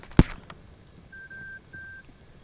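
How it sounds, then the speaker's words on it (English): Two electronic beeping tones from a proximity alarm in the video game Rainbow Six Siege, each lasting about half a second with a short gap between them, moderately loud. A sharp click lands just before the beeps, and faint game ambience continues underneath. "These guys are something serious with these proximity alarms."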